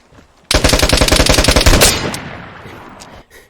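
Light machine gun fire in the game Vigor, a single loud close burst of about fifteen rapid shots followed by a fading echo.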